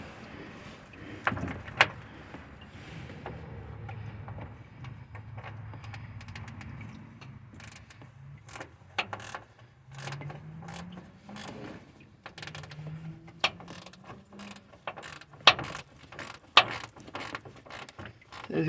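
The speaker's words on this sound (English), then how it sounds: "Have a number 10 ratchet wrench." A number 10 ratchet wrench turns bolts during a radiator replacement on a 1995 Chevy C1500 pickup truck, giving scattered metallic clicks, creaks and rattling bursts up close that grow busier toward the end.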